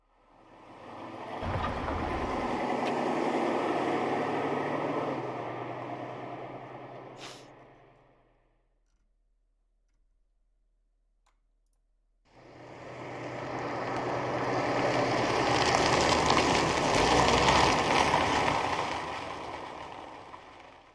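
Designed sound of a car passing the camera: a broad roaring whoosh swells and fades, then after several seconds of near silence a second loud pass rises and holds, panning across.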